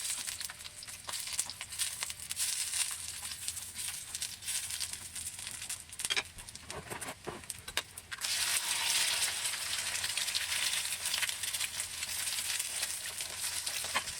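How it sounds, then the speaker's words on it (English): Frozen dumplings fry in a pan, spaced apart, giving a steady crackling sizzle with occasional scraping and stirring clatter midway. The sizzle swells brighter and louder after the scraping, and no one speaks. "it is necessary to make sure that there is a distance between the dumplings when frying"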